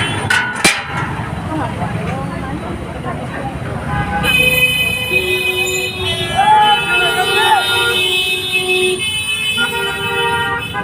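Steady road traffic roars beside a house on a busy street in an Indian city at night, with several car horns honking and overlapping, some long sustained toots, all close and loud.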